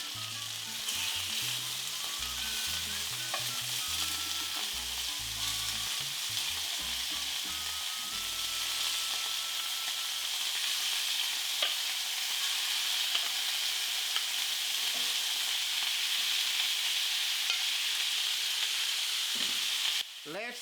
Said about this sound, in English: Once the oil is very hot, start adding the beef cubes.